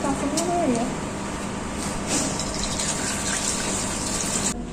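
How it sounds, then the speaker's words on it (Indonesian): Tap water runs steadily while hands are washed with soap during a midwifery clinical skills exam, a continuous close splashing rush, with a faint voice briefly near the start. "Melakukan tindakan dengan sabun dan air mengalir."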